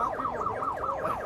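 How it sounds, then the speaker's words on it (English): A police car siren on a vehicle displayed at a Los Angeles car show gives a rapid repeating rising-and-falling wail, several quick cycles, loud and close with no talk over it. "The siren is right there"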